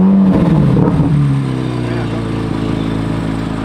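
A Chevrolet Corvette Z06, valves opened in Z mode with the ultimate track package, revs sharply at the start, then the engine settles into a loud, steady rumbling idle.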